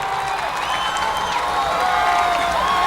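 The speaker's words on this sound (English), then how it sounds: "now the crowd is getting loud." Loud crowd roaring and cheering in the stands at a Friday night high school football game, North Haven versus Fairfield Prep, a dense steady wall of noise with no break throughout.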